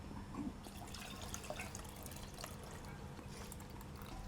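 Coconut milk payasam for pazham pradhaman, a sadhya-style banana dessert, poured back into the pot, a steady liquid pouring and splashing sound with drips, continuous and fairly near throughout with no voices.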